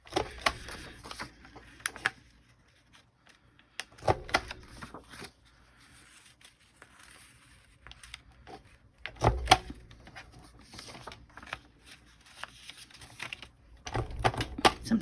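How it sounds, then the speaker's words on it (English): An envelope punch board rounds the corners of a journaling card, several sharp, close clunks and rattling snaps in separate bursts with quiet handling between them. "I can't find my regular corner rounder, so I am using my envelope punch board"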